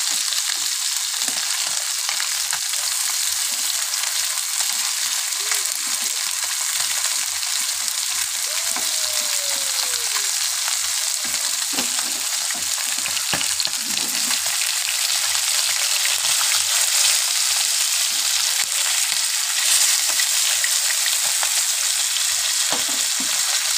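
Fish pieces frying in a pan for mustard curry give a loud, continuous crackling sizzle throughout, with occasional soft scrapes and taps of turning the pieces, and no talking.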